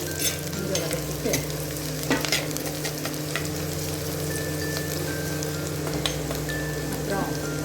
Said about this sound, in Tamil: அப்புறம் பூண்டு. கொஞ்சம் வதக்கிடலாங்க.